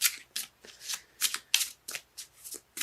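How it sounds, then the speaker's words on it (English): Tarot cards being shuffled in quick riffling bursts, about ten crisp flutters in an irregular rhythm, close and fairly quiet. "Cards let me know when they're done shuffling."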